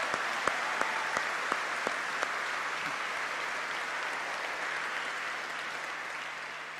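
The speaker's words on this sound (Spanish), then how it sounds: "Un aplauso más fuerte al Señor ahí." A church congregation claps in a steady, continuous wash of applause; a few sharp, evenly spaced claps stand out near the start, then the clapping blends into an even roar.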